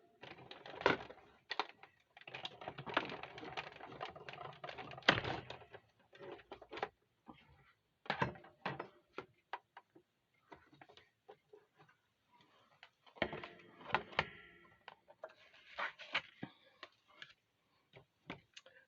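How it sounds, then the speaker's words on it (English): A Stampin' Cut embossing machine is hand-cranked to feed a card through an embossing folder, giving bursts of clicking, ratcheting mechanical taps that come in uneven clusters, close and moderately loud, with short pauses between runs. "we'll run it through our Stampin' Cut embossing machine"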